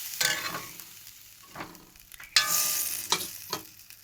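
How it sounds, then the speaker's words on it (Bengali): Spiced curry broth in a pan bubbling and sizzling as it comes up to a boil, with intermittent stirring scrapes and spoon clatter, fairly close and moderately loud, no voices. "এবার এটা একটু ফুটবে।"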